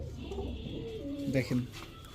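Racing high-flyer pigeons coo close by in soft, rolling low calls, several coos overlapping in a loose rhythm with light background noise.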